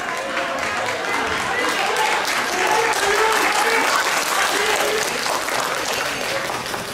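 Steady applause from a crowd of spectators at a national cycling championship in Yangyang, sustained and dense throughout with voices mixed faintly into the clapping.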